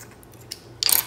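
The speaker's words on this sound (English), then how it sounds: "you're gonna cut off the toe of the sock, so the round part. You're just gonna cut that straight across." Scissors snip straight across the toe of a fabric sock, a short crisp burst of cutting close by after a near-silent pause.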